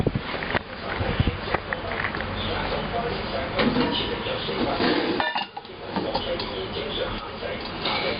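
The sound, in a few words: roasted peanuts poured out of oven rotisserie cage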